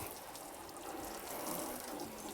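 Steady broadband hiss of water sprayed onto a car during a full deep-clean wash, a continuous close rush with no breaks and no voices.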